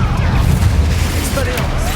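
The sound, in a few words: Accio spell cast in video game Hogwarts Legacy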